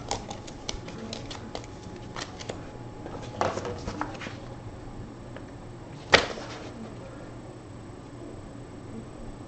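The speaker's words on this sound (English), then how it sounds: "So we got to shuffle the damage thing" Deck of damage cards for a tank board game being shuffled, a dry run of soft papery riffles and taps close by with a sharper snap partway through, no talking.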